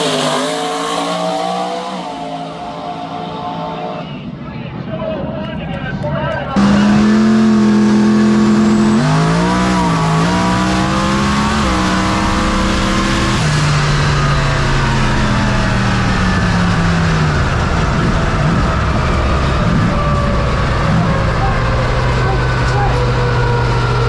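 Drag car fitted with a Nissan VK56 V8 engine making its first pass, idling and then roaring loudly through a sustained acceleration run, with rising and shifting engine tones and voices talking over it.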